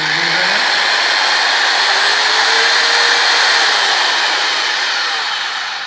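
A belt sander runs with a loud, steady motorized whir at close range on wood, a smooth high hiss with a slight pitch drift, fading a little at the end.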